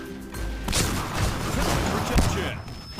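Rapid gunfire from the online shooter game Point Blank crackles in dense bursts with a sharp report near the end, mixed under excited talking.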